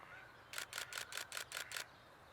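A Nikon D7200 DSLR camera shutter fires in a quick burst of seven crisp clicks, evenly spaced, close to the mic in a quiet room.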